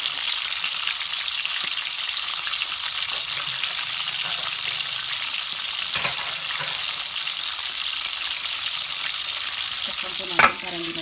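Fish frying in hot oil in a pan, a continuous close crackling sizzle with occasional stirring noises and a sharp clatter near the end.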